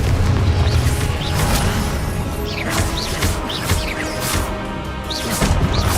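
A Confringo blasting spell in Hogwarts Legacy goes off in a series of dense, loud booming explosions. They come over a continuous rumbling game soundscape, with sharp crackling bursts spread throughout.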